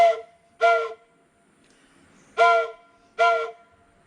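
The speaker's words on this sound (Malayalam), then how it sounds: "ഇനി ഈ 3 വിസിലും കമ്പൈൻ ചെയ്തിട്ടുള്ള ആ ഒരു സൗണ്ട് എങ്ങനെയാണെന്ന് നോക്കാം." A homemade PVC pipe train whistle with three pipes sounding together gives four loud, chord-like blasts, two close together, a pause, then two more, heard alone.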